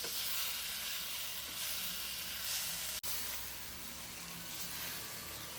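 Ridge gourd pieces fry in a pan with a dense, even sizzle up close, steady throughout apart from one brief dropout, and faint stirring scrapes underneath. No voices.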